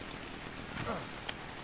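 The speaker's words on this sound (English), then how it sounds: "we can run about because it's raining" Steady rain falls in the ARK: Scorched Earth video game, a constant soft hiss throughout with a brief louder rise near the middle and a short click toward the end.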